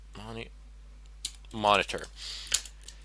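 Keys clack on a computer keyboard as a network command is typed, a few sparse sharp clicks mixed in with a person speaking close by.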